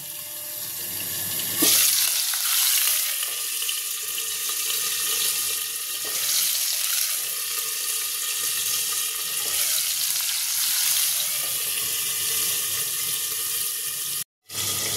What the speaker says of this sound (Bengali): মাছটা ভাজা হয়ে গেছে হালকা করে